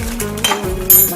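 A spoon clinks against a bowl while flour, salt and baking powder are mixed for Tibetan momo dough, with several quick, close chinks over a low steady hum.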